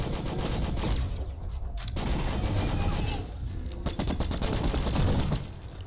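A sentry turret in the sci-fi game The Signal from Tolva fires dense, rapid automatic bursts, loud and continuous with brief gaps, a harsh mechanical rattle filling the whole stretch.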